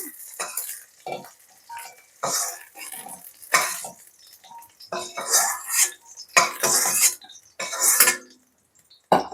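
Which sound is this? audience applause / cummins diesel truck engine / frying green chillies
frying green chillies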